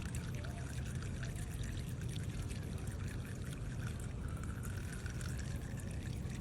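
Water pours steadily over a small turtle, making a continuous, faint splashing rush with no break and no voices.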